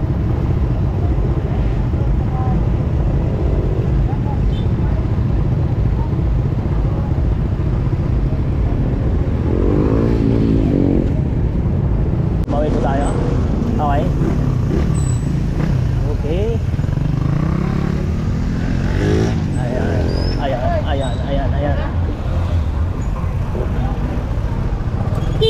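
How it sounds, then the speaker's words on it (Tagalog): Busy city street traffic in Matina Centro, Davao City, with cars and motorcycles passing in a continuous, loud roadway drone, engines rising and fading while people talk over it throughout. "Traffic, traffic, traffic."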